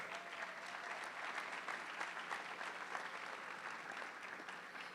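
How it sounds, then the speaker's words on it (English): Dense, steady applause from a crowd, continuous clapping at moderate volume throughout. "A big round of applause for our Boone Super Scholars."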